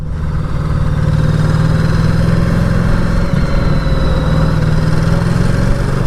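A 2019 Ducati Diavel 1260S being ridden at low speed, its engine giving a loud, steady low rumble with a brief dip around a quick-shifted gear change.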